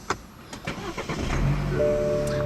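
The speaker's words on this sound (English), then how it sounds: "what you're hearing is the company's new 2-liter turbo 4-cylinder engine" A 2013 BMW 320i's 2-liter turbocharged four-cylinder engine cranks and catches, then settles into a steady idle with a whining tone, close and fairly loud.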